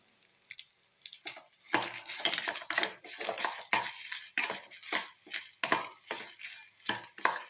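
Dried red chillies dry roasted in a pan for an eggplant tamarind curry, with a spatula stirring and scraping the metal in a run of sharp, irregular clinks and rattles, close and fairly quiet.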